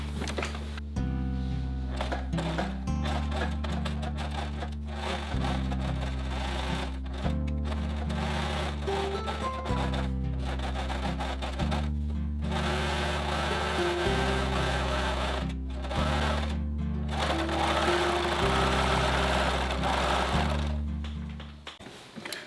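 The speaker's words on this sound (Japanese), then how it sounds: "これでポケット周りにロックミシンをかけてきます。" An overlock serger hums and whirs in steady runs of fast stitching around a fabric pocket, pausing briefly between passes, close up and alone.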